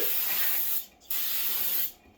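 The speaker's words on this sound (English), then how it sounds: "we got us some brake clean. I'm just going to spray it off." Brake cleaner aerosol hisses in two close, steady sprays of about a second each, separated by a short pause, while cleaning a wheel bearing area on a 2008 Chrysler Town and Country.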